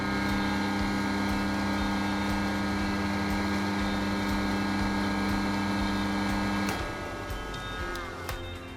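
An electric motor, started by an electromagnetic push-button, runs with a steady, fairly quiet tonal hum and whir, then cuts out and winds down near the end.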